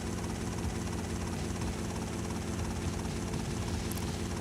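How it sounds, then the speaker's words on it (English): A helicopter in the video game GTA Vice City Stories drones steadily with a constant rotor thrum, loud and unchanging throughout, without speech. "Hope you like the sound of the helicopter, because you're going to be hearing it for a little while longer."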